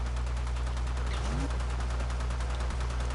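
Heavy gunner enemies fire in Warframe, a steady rapid stutter of gunfire layered over a constant low drone, with a brief tonal sweep partway through.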